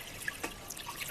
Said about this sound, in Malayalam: ഇനി വെള്ളം ഒഴിച്ചോ